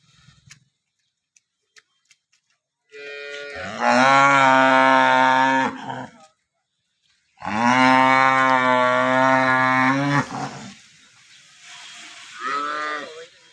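Two long, loud cow moos in succession, deep and drawn out, followed by a shorter, fainter low call near the end.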